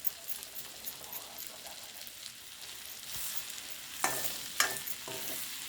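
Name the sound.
onions frying in pan for egg biryani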